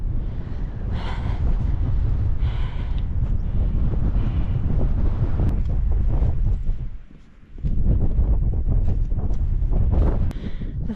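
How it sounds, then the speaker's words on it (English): Strong wind gushing up a mountain gully on top of Wasdale Screes in the Lake District, a loud, close roaring buffet across the microphone, briefly easing before surging back. "The wind is gushing up this gully."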